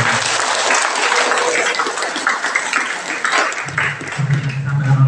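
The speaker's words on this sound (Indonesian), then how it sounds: "tepuk tangan kembali untuk Tuhan" An audience at a guest university lecture on counseling applauds warmly, a thick, sustained wash of many hands clapping that continues for several seconds, with a voice emerging underneath toward the end.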